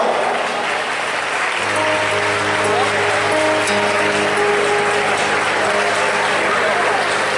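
A festival crowd at the Fiesta Nacional de la Guitarra applauds a guitarist, a broad wash of clapping with a steady electronic hum beneath it and no clear speech.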